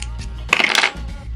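Cotton wick being snipped in half with scissors during a rebuildable dripper atomizer build, a single short crisp cut heard up close and alone.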